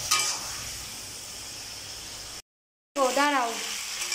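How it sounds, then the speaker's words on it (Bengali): Koi fish curry fries in a pan with little oil, giving a steady close sizzle. After a brief silent gap the sizzle resumes and a voice speaks over it. "এই দেখো ভাজা ভাজা হয়ে গেছে"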